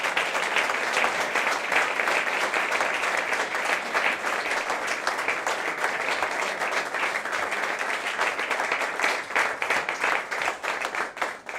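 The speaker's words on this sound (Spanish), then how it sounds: "Ana Gómez, para quien pido un fuerte aplauso, por favor." Sustained applause from an audience at an award ceremony of the Club de los Viernes, greeting the club's president; dense, steady clapping fills the whole span at moderate distance, fraying slightly toward the end, with no speech over it.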